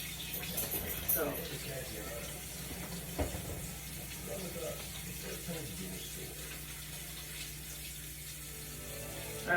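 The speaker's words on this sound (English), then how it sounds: "I'm washing my hands" Tap water runs steadily into a kitchen sink as hands are washed after handling raw pork chops, a continuous hiss with faint clatter and a brief knock partway through.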